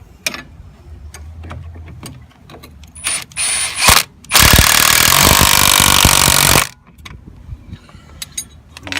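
Ratchet wrench with a 15 mm socket tightening a fastener on the front wheel bearing of a Ranger Crew 900 side-by-side, with scattered clicks and clanks, then a loud, close, steady buzzing ratchet run lasting about two seconds, no talking.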